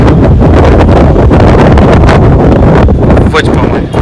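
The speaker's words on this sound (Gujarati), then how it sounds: "ખૂબ જ પવન." Strong wind blasts across the microphone outdoors during a stormy rainy spell, a loud continuous roaring rumble with heavy buffeting, and a voice is briefly audible beneath it.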